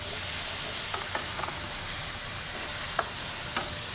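Potatoes fry in a hot pan with a constant bright sizzle, broken by a few sharp clicks and scrapes of utensils moving them; close and steady, no voices.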